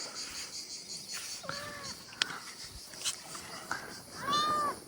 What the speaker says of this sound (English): She's meowing. I think she's hungry.